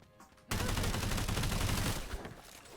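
A sustained, dense burst of rapid gunfire in the video game SULFUR, starting abruptly and loud for about two seconds before tapering off.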